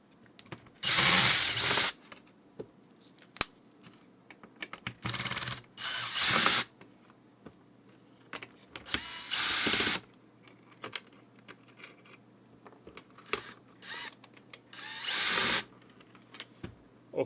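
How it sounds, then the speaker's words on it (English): A power drill whirs in several short high-pitched bursts, each lasting about a second, removing two small screws, separated by quiet pauses and a few small clicks. "So now the first thing we need to do is open 2 small screws. I'm using an electric drill."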